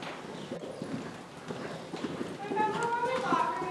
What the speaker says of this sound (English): Look at that beautiful mare.